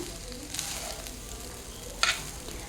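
Paneer fried rice is stirred and mixed in a pan over a steady low sizzle, with soft scraping strokes and one sharper clink of the utensil near the end.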